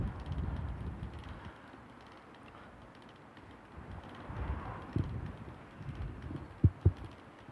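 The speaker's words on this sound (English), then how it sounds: "It's a beautiful sunny day, but very, very windy." Strong wind blows outdoors on a sunny spring day, buffeting the microphone with low, uneven rumbling gusts that swell and fade, plus a few sharper thumps near the end, with no voices.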